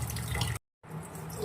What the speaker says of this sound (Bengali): ডালটাকে ধুয়ে নেব।